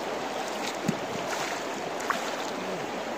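Soft continuous flow of creek water through a prospecting sluice over a steady hiss, fairly quiet, with a couple of faint small knocks.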